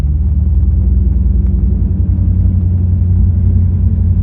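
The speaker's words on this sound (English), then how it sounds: "Foot on the throttle, got a good point there, and we're off, just like that." Engine of a manual-transmission car pulling away under throttle after a gear change, a steady loud low rumble that holds without a break and is heard close from inside the cabin.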